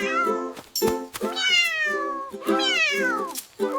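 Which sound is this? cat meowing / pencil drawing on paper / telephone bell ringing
cat meowing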